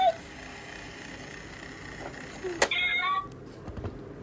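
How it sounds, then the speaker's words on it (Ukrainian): A toy cat coin bank meows as the cat pops out to snatch a coin, a short mechanical clack followed by a brief electronic meow, heard close against a quiet room. "Натискаємо кнопку, з'являється кішка та забирає монетку."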